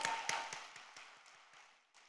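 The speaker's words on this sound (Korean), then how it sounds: "하나님께 감사의 박수 한번 올려드릴까요?" A church congregation at a prayer retreat gives a round of applause, heard as a quick, rhythmic run of claps that steadily fade over two seconds.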